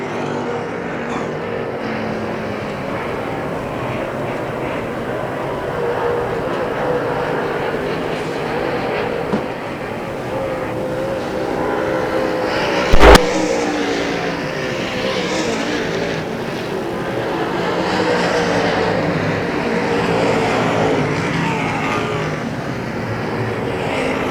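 Late model sportsman race cars roaring around the dirt oval at Hagerstown Speedway, a steady loud engine drone from the pack with a sharp pop partway through, heard from the grandstand side.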